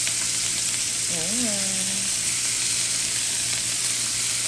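Boiled pork belly frying into chicharon gives off a loud, constant close-up sizzle, with a brief spoken word heard over it.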